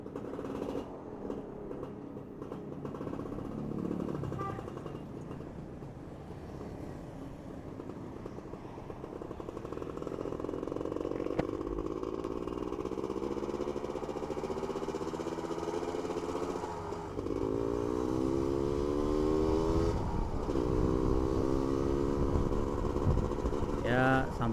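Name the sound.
Suzuki RK 110 motorcycle engine warming up while riding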